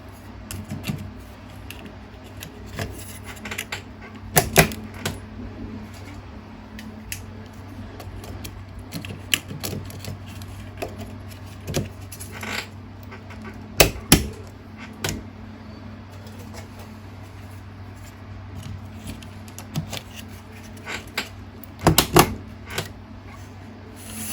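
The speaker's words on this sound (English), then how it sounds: "It's so satisfying installing RAM." RAM modules pressed into the slots of an EVGA X58 motherboard, with sparse sharp plastic clicks and latch snaps standing out over a steady low electrical hum, close by and without talk.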